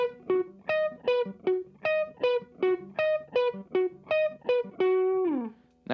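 Clean electric guitar riff played without delay, crisp, distinct hammered notes in a steady rhythmic pattern, up close and alone, ending on a sustained note that fades.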